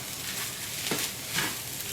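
Flank steak sizzling on a grill, a faint steady hiss with a few soft pops and a brief sharp crackle at the end, no talk.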